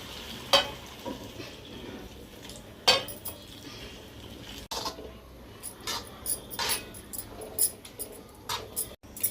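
Hot milk goes into carrot halwa in a pan, followed by intermittent spoon stirring and scraping with sharp metallic clicks and soft sizzling. The sounds are close and moderately quiet, with no talking.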